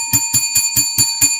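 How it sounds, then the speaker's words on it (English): A bell struck six times in a steady, evenly spaced rhythm, each ring bright and sustained with a low thump at the strike, loud and close with no talking. "Let's ring the bell for incompetence or arrogance"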